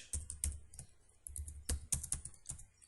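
Code being typed on a computer keyboard, quiet irregular keystrokes in short bursts with brief pauses, close and soft, with no talking.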